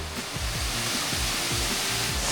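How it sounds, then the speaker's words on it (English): Constant rushing water roars close by, a dense, unbroken wash of falling water from start to end. "We're going to go down there to a waterfall."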